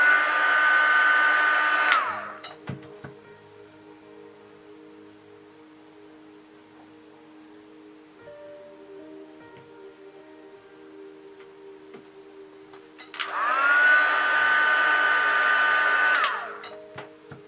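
A heat gun blows hot air to set face paint on a doll, loud steady whooshing for two bursts at start and end with a quiet gap of faint background between.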